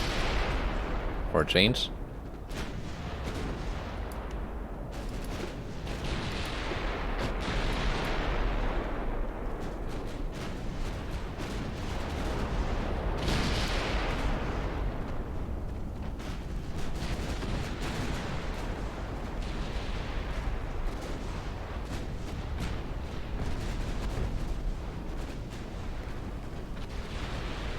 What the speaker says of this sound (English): Have incoming fire again.